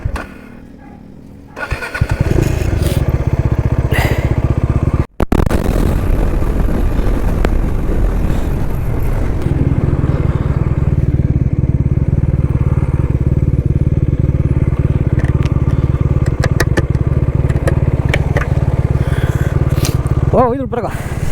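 A motorcycle on a road trip toward MM Hill runs with a loud, steady engine drone close by, after a sharp start and a brief cutout near five seconds; voices talk over it.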